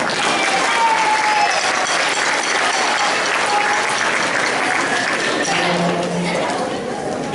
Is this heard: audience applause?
yes